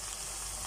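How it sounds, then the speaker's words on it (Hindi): Potatoes sizzle steadily in hot oil for eggplant-and-potato curry, a continuous broadband frying hiss with no voices, close and even throughout. "तकरीबन 2 से 3 मिनट हो चुके हैं इस आलू को ऑयल के अंदर पकाते हुए।"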